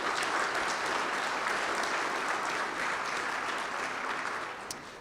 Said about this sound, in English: So let's give them a round of applause for helping us.